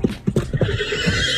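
A horse in a LEGO animation gives a short, loud whinny with quick pulsing neighs layered over light clip-clopping hooves, close and alone.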